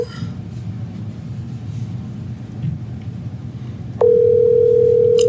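A telephone call connects, with low rumbling background noise before a steady tone sounds abruptly and holds loudly to the end.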